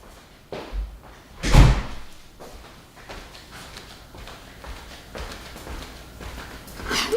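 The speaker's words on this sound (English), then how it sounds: "My front door just opened for no reason at all." A front door is handled and shut: a loud thump near the start, a few softer knocks and rattles, then a final thud at the end, all close by with no talk.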